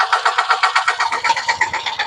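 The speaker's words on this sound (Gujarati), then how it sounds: "ટ્રેક્ટર અને લાકડા લઈને આવે છે" A tractor engine runs close by and loud, a rapid rhythmic chugging throb that pulses steadily for the whole stretch.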